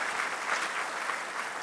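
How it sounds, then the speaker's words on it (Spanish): A church congregation at a baptism service claps together, a brief, full burst of steady crowd applause with no speech over it. "Eso hay que aplaudirlo, gente,"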